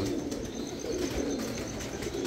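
Pigeons coo steadily and close by in low, rounded calls that overlap throughout, with faint background hiss and no talking.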